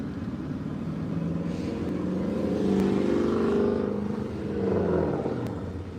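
A Dodge Challenger engine revs in two swelling bursts over a low idling rumble, heard at moderate distance.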